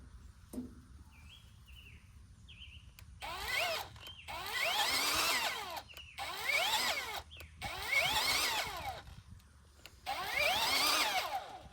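A Kobalt 24V cordless grease gun runs outdoors on a rainy day in five close, loud motor bursts of a few seconds each, with brief pauses between them and faint bird chirps in the background.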